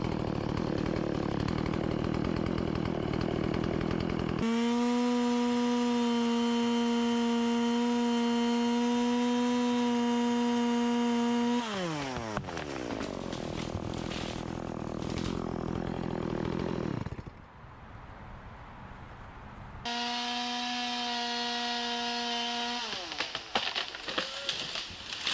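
A chainsaw cuts a tree branch by a river, its engine screaming at a steady high pitch, then dropping and idling before revving hard again for a second burst, loud and close.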